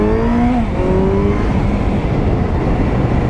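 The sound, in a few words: Honda CB650F inline-4 motorcycle accelerating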